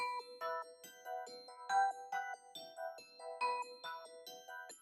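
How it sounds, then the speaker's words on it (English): Synth pad from a sound kit in Studio One, processed with an auto filter plug-in, plays a soft chime-like melody in rhythmic pulsing chords with bright overtones. It sounds alone and fairly quiet, with no talking. "with auto filter, it sounds like this"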